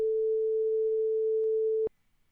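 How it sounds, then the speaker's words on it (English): Pure 440 Hz sine tone generated by ChucK code at reduced volume, a steady unwavering beep lasting about two seconds before cutting off abruptly into near silence. "that's a sine wave at 440 hertz for 2 seconds"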